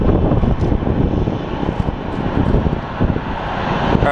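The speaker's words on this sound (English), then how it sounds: "let's watch this A319 departing for Boise" An Airbus A319 airliner departs Phoenix Sky Harbor International Airport with a loud, continuous engine roar that holds steady throughout, heard close with no voices.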